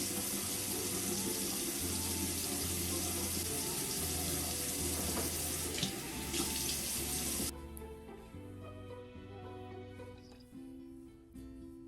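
Water runs from a tap in a steady rush, poured over a curly wig, then cuts out abruptly partway through, leaving quieter dripping and a faint hum.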